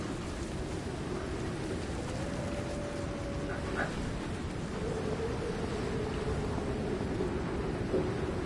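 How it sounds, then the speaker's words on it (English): Steady rain and storm noise fill an open-world survival game, Icarus on PS5, with a continuous wash of downpour and a faint low rumble, while a horse-like tone drifts over it. "Guess because I'm out in the storm"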